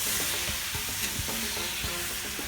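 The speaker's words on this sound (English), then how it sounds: "There we go, that is cooking delightfully." Meatballs fry in a hot pan for spaghetti and meatballs, with a loud, continuous, close sizzle and a few soft stirring knocks throughout.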